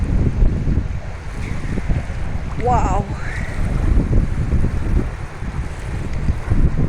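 Lake Ontario surf washing onto a beach in Burlington, Canada, a steady broadband rush mixed with wind buffeting the microphone, with a brief high squeal partway through.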